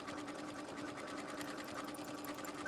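A sewing machine stitches steadily along a marked line on a quilting project, a quiet continuous whirr with a fast even rhythm throughout, no talking.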